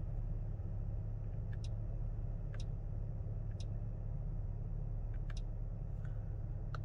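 A Mercedes-Benz GLB 200 idles at stable revs, a quiet steady low rumble heard from inside the cabin, with faint periodic ticks over the hum and no talk.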